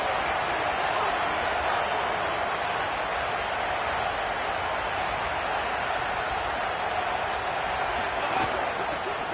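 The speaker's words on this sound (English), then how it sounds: "Guns up, and so is the noise. The crowd electric" A Texas Tech football stadium crowd roars as a broad, steady wall of cheering and noise, far-off and sustained throughout, with a commentator's voice faintly mixed in.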